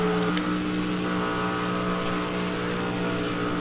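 A race car engine held against the rev limiter, a steady high buzzing drone with a fixed pitch that barely varies, loud and continuous throughout.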